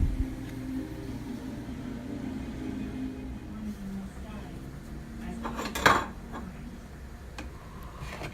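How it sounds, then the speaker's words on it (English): Metal tongs stir spaghetti noodles in a cooking pot, giving soft, scattered clinks and scrapes and one sharper clank near the end, all quiet over a low, steady kitchen hum. "use a pair of tongs while we're stirring."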